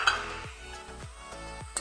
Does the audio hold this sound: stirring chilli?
yes